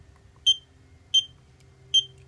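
A modified Turnigy Reaktor hobby battery charger sounds its buzzer: three short, identical high beeps, evenly spaced about two-thirds of a second apart, clear and fairly loud over a faint low hum.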